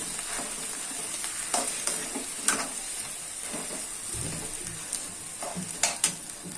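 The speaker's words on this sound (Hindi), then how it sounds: "सारे आलू को हमें इसमें अच्छे से मिक्स कर देना है" Mashed spiced potatoes for a veg frankie filling are mixed in a frying pan: a low steady sizzle under irregular spoon scrapes and taps against the pan, with no one speaking.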